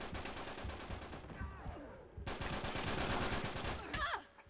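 Rapid blind-fire gunshots in the video game Uncharted 3 ring out in loud, dense bursts of gunfire. A brief lull comes in the middle before the shooting resumes, and faint voices may sit underneath.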